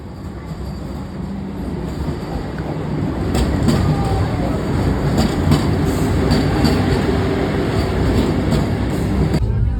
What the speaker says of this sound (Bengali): ট্রেনের অপেক্ষায় রয়েছি বন্দে ভারত।